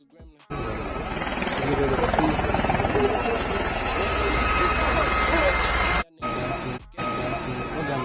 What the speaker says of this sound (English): That's the helicopter right there.